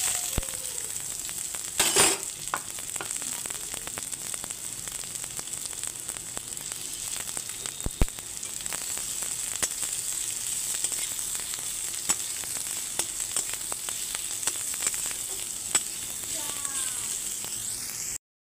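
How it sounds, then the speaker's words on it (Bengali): Green chillies and chopped onion sizzle and fry in hot oil in a wok, a steady close crackle running throughout with a couple of sharp clinks early on. "আবারও আমি কড়াই তেল দিয়ে দিয়েছি, এখন দিয়ে দিচ্ছি কাঁচা লঙ্কা আর পেঁয়াজ কুচি।"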